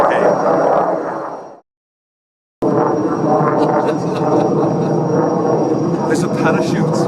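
Airplane flying overhead in a village setting, a steady loud droning engine hum that cuts out briefly then resumes, with people talking underneath the noise.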